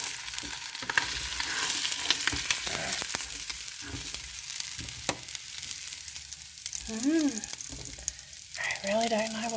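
A steak fries in a crowded pan, with continuous sizzling and crackle broken by scraping and stirring clatter. Brief tonal squeaks come near the end.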